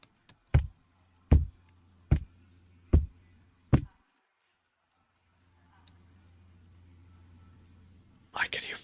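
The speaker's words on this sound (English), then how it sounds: "I can hear a clock on my wall." Wall clock ticking in the horror video game Let Me In, five loud, evenly spaced knocks about a second apart over a low steady hum, followed by quiet and a brief hissing burst.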